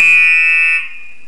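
Building fire alarm sounding during a scheduled test: a loud, steady high-pitched electronic tone held unbroken, then dropping abruptly to a quieter sustained level near the end, with no talking.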